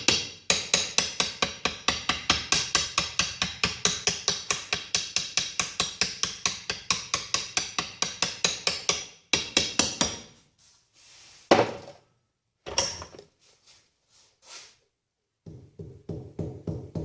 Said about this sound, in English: I'm going to take something and hit it against the pipe, go up and down, all the way up.